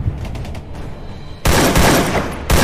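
Soldiers' automatic gunfire in a Free Fire short film, quieter scattered shots at first, then two sudden loud bursts of rapid fire close by.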